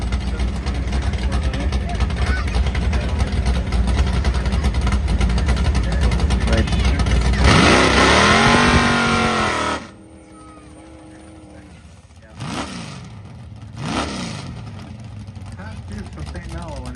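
A 1969 Dodge Coronet 440 drag racing car at an airport drag race roars continuously, then surges and revs hard before cutting off; two more sharp revving bursts follow over a quieter background, with voices present.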